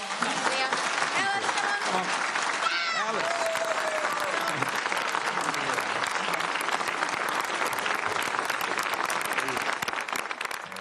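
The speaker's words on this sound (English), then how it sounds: "The applause, if you're wondering, they're not coming from the media" Staff applauding in a courtyard after a Prime Minister's resignation speech, sustained crowd clapping throughout, with voices and cheers mixed in at the start.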